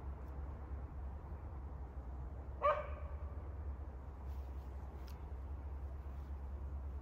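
A single dog bark rings out somewhat distant and faint over a constant low rumble of outdoor background noise, with no speech around it.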